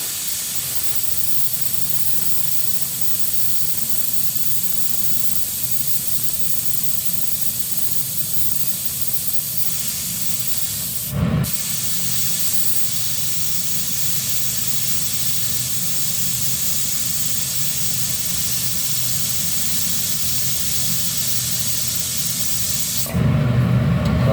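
Steady, loud hiss of steam escaping under pressure from a pressure cooker boiling beef feet, continuous throughout, with a brief thump midway and a sharper burst near the end.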